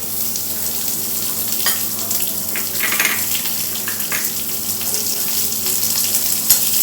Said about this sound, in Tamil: பட்டை மிளகாய் வச்சுருக்கோம் காஞ்ச மிளகாய் அதை போட்டுருங்க போட்டு நல்லா வதக்கணுன்னே